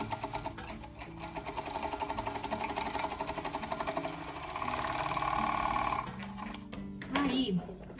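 A sewing machine stitches children's panties in a rapid, continuous mechanical patter for about six seconds, close and clear, then stops, with a voice briefly heard afterward.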